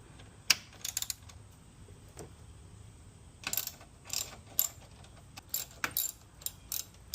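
Screws being removed from a Hustler zero turn mower during an ignition solenoid repair, heard as scattered close metallic clicks, ratcheting and small rattles with quiet pauses between.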